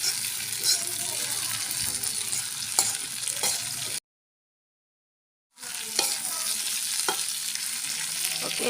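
Tofu and tempeh fry and sizzle in a pan while being stirred, a steady broadband hiss with occasional scraping clicks, broken by a brief silent gap midway.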